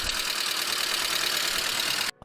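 A SEAT Ibiza MK1 with fresh petrol and a replaced hose, its engine running at a steady, loud, rough idle that cuts off abruptly near the end, with no talking.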